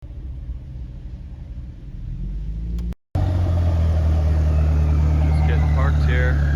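A 1989 Honda Prelude Si 4WS rolls in to park at a RADwood car show at Honda headquarters, its engine rumbling close and steady, then cutting out briefly before a fuller low drone resumes with a voice over it.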